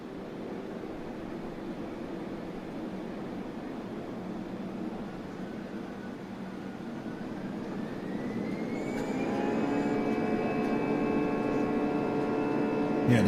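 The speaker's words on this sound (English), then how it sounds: "here's the takeoff from runway 35 right" A Boeing 737-800 with CFM engines spools up for takeoff in a flight simulator, a low steady jet rumble that swells into a louder whining roar with rising tones partway through, heard alone with no talk.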